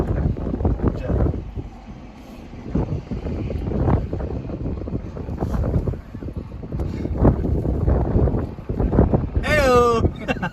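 Gusty wind batters a microphone outdoors during a storm chase, with loud rumbling buffets rising and falling throughout, and voices briefly heard over it.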